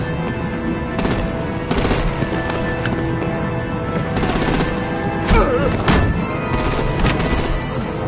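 Artillery gunfire in the video game Batman The Enemy Within: loud, dense bursts of rapid shots and booming impacts that recur continuously over a busy, noisy battle background, with no voices.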